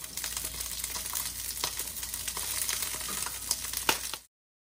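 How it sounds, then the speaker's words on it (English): Shishito peppers and sweet corn blistering in a hot pan give off a steady, close sizzle and crackle with occasional sharper pops, heard alone without talk. "The peppers are blistering away"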